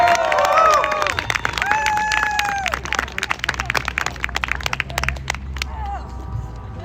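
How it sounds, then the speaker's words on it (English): Crowd at a George Floyd march in Portland, Oregon claps and cheers outdoors, a loud rough wash of hands and shouts with whistle-like voices rising over it, gradually thinning toward the end. "Just give another round of applause for Coco"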